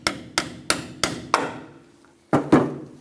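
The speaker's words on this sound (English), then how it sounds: "we're just going to use a hammer on the bottom" A hammer strikes the sway bar link stud on a Chevrolet S10 with sharp metallic taps, four evenly spaced blows, a lighter fifth, a short pause, then two more quick hits, close and clear with no talking.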